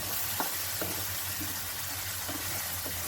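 Tomato-based masala for egg biryani frying in a pan, a loud, continuous close sizzle with faint stirring scrapes throughout and no voices.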